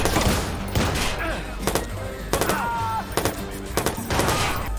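Gunfire in the Watch Dogs video game: repeated bursts of shots in quick clusters, loud and close, spread through the moment with a few brief tonal effects between volleys.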